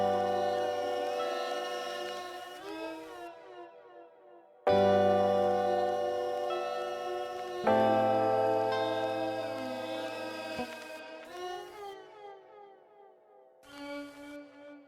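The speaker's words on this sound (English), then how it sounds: "Let's see if we can lay out a nice pad." A synth pad preset plays a lofi melody, with sustained, harmonically rich chords that swell in as long held notes, shift pitch, and fade between changes, sounding alone and clear.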